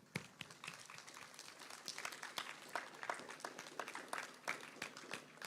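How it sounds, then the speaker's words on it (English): Applause at an 8th grade promotion ceremony, a crowd clapping in quick, uneven bursts that swell and sustain throughout, moderately distant and without clear speech over it. "Give yourselves a round of applause."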